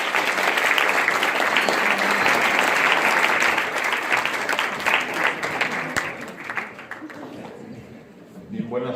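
Sustained audience applause at a lecture on Baja California's role in the Mexican Revolution, dense and loud for most of the span before thinning and fading toward the end.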